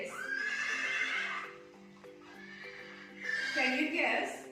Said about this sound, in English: It is horse.